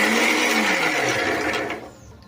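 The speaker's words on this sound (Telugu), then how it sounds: "దీన్ని మిక్సీ అయితే పట్టేసుకుంటున్నాను నేను." A mixer grinder whirs loudly as it grinds chutney, a steady high motor drone that winds down and stops near the end.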